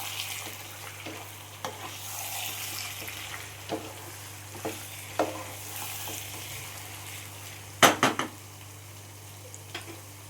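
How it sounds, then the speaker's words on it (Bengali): Mutton masala frying in a pan while being stirred, a steady low sizzle broken by sharp scraping clinks of a spoon against metal, loudest in a close cluster near the end. "এবার আমি ভালো করে নাড়িয়ে নেব।"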